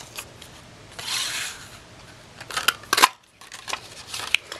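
A 2-inch circle punch cuts through paper, giving a crisp close crunch and snap after some rustling handling sounds, quiet between the bursts.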